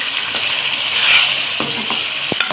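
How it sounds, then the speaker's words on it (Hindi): Chopped tomatoes sauté with chicken in a pan for a moringa curry, with a loud steady sizzle and a few stirring knocks and scrapes toward the end. "अभी 1 से 2 मिनट इसको भून लेंगे"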